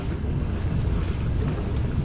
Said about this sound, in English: It's blustery and windy with showers of rain.